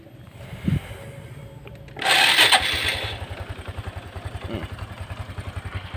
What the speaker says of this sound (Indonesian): suara knalpotnya itu adem banget, ngebas halus ya. Coba kita nyalakan ya.